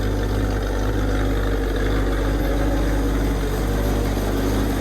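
A 1965 Ford Mustang engine running on old gas, heard from the back of the car as a steady low idling rumble, constant and fairly loud throughout, with no talk.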